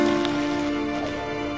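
Steady rain falling at the start of the monsoon season, a dense even hiss of drops on surfaces heard close and continuous, with a constant low hum beneath and no talking.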